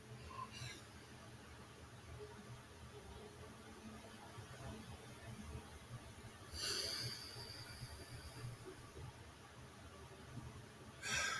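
Forceful breaths drawn in hard through the nose during a group breathing exercise: three short, rushing inhales, one early, one in the middle and one at the end, over a steady low background hum.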